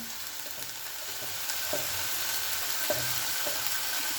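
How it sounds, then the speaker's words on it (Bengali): Bengali masala of Kashmiri chilli powder, turmeric and cumin powder frying steadily in a pan, a continuous close sizzle with occasional soft stirring scrapes, no voices. "দিয়ে খুব ভালো করে মশলাটা কষিয়ে নেবো"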